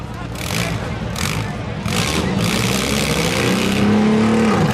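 Demolition derby car engines rev and whine in a junk-car finals heat, loud and continuous with rising pitch toward the end, under an announcer's voice.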